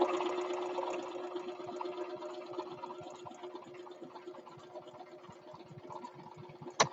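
A sewing machine stitches a fabric flower for a quilt top, a fast, even mechanical hum with rapid needle ticks running steadily and close, slowing slightly before a sharp click at the end.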